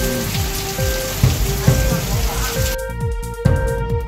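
Rain pours steadily in a dense, loud hiss across the whole stretch, with soft low rhythmic thumps underneath and the pattern shifting slightly near the end.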